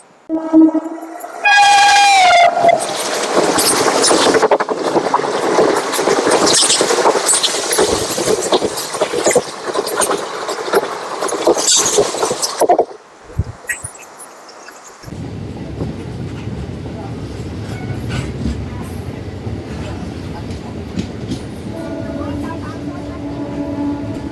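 The Bhubaneswar–Howrah Jan Shatabdi Express roars past close by with heavy rumbling and clattering wheels, a horn sounding early, then the noise drops to a lower steady rumble.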